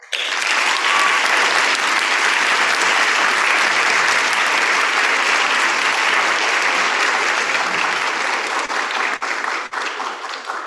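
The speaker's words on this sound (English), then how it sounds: "please help me give a huge round of applause for Miss Rihanna Horner." Audience applause at a high school instrumental music awards ceremony, a sustained, even wave of many hands clapping in a hall, loud and continuous with a slight taper near the end.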